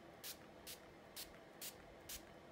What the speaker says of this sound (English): I'm gonna be using the Urban Decay All Nighter Spray